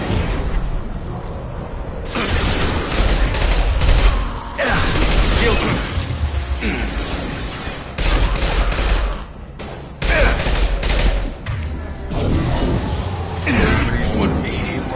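Shotgun gunfire in the video game Mass Effect 2, loud repeated blasts arriving in heavy bursts separated by short lulls, mixed with mechanical clatter and combat noise, with voices speaking at times.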